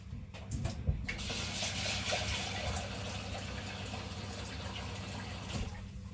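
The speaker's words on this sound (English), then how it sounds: "I'm going to fill the pot up with cold water" Cold tap water runs into a cooking pot in a steady, continuous gush lasting several seconds, close by and moderately loud, with no speech.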